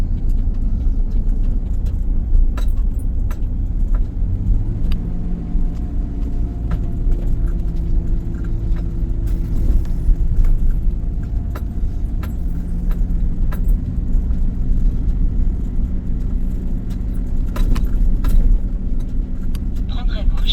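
A camper van rolls slowly along a road near Hyères with worn brakes, its steady low engine and road rumble continuous throughout while someone talks over it.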